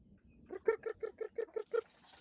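Backyard free-range chickens cluck hungrily while being fed, giving a quick, even run of about seven close, clear clucks that fades into quiet.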